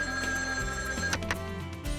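A landline telephone rings steadily and fairly loud with its bell tone, alone without any talk, in a drama scene where the call comes from a police superintendent.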